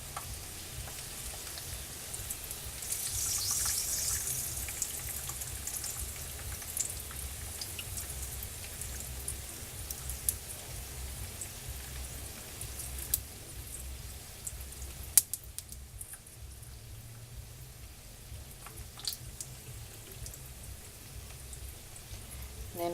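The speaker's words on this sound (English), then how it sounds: "And I just keep frying until I have a bunch of tacos." Homemade crispy taco shells frying in hot oil give a steady, dense crackle and patter, close and moderately quiet, with a few sharper pops scattered throughout and no talking.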